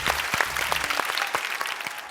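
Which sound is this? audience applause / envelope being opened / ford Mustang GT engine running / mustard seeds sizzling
audience applause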